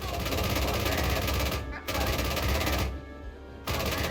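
Heavy machine-gun fire from an armored vehicle in GHPC, rattling in long continuous bursts with two brief pauses, loud and close, with voices faintly mixed in.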